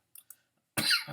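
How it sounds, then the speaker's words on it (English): A man coughs: a couple of faint throat sounds first, then one loud, close, harsh cough at the end. "I'm coughing myself still"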